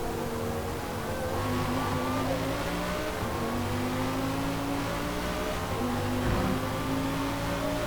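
A mid-engine car in Forza Motorsport holds a steady, loud engine drone with rising harmonic tones as it accelerates, staying close and continuous throughout.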